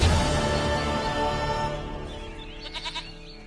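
Goat bleating in The Witcher 3: Wild Hunt, a short wavering cry near the end of the clip, heard over dense game music and ambience.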